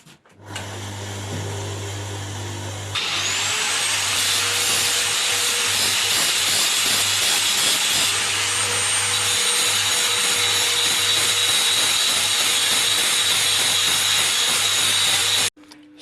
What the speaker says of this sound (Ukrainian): щоб був ширший різ, я надів на болгарку два круга і розрізаю надвоє.